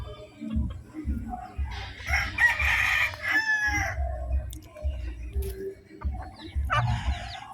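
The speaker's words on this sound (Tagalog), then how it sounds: "yung manok niya." A rooster crows loudly at close range while chickens cluck around it, with several crows and clucks spread across the clip in a rural setting.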